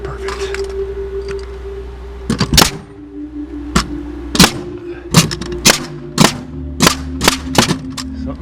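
A faulty nail gun fires during roofing work, sending a string of sharp, loud bangs at uneven intervals over a steady mechanical hum, with a brief clatter early on and no talk.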